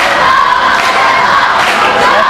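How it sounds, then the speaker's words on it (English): Little Giants basketball fans at a 2004 high school boys' game cheer and shout continuously ahead of an overtime tip-off, a dense, loud crowd roar filling the gym. "we got the Little Giant faithful cheering them on"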